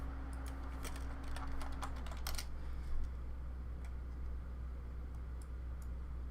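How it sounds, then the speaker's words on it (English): Someone types quickly on a computer keyboard close by, giving bursts of light clicks that thin out into sparse taps over a low steady background hum. "I typed that all kinds of wrong."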